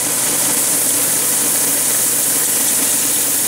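A belt sander grinds a bone guitar nut flat, making a loud, steady, unbroken whirring roar close by with no voices.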